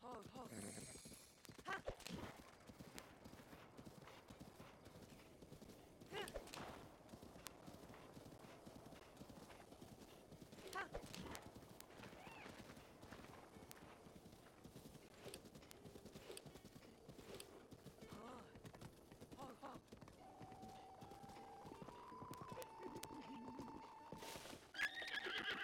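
A horse's hooves clip-clop steadily on the ground in the video game The Legend of Zelda: Breath of the Wild, with whinnies and neighs, other game sounds and a voice talking over it.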